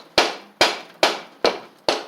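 Five sharp metallic hammer blows on a Sabre riding mower engine part land at a steady, unhurried pace, each one ringing briefly before fading, close and loud with no voices.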